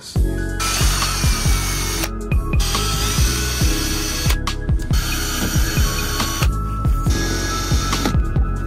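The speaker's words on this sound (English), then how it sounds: "I'm just gonna drill out the holes for where the bolts are supposed to be inserted." A power drill bores bolt holes through a plastic car bumper lip on a junkyard-parts Honda Civic build, running loud and steady with repeated short bursts of grinding and pauses between holes, no talking.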